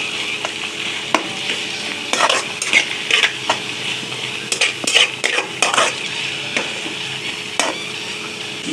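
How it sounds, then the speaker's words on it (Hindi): Garlic ginger paste fries in a karahi with garam masala, sizzling steadily while a metal spoon stirs and scrapes against the pan in irregular clinks. "लहसुन अदरक का कच्चापन दूर कर लेंगे इसके अंदर भून के"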